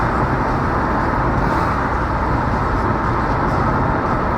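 A car drives on a road at night, filling the cabin with a loud, constant rumble of engine, tyres and road noise that stays steady and unbroken throughout with no speech.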